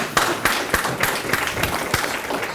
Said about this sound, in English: Can I get a hand clap on that?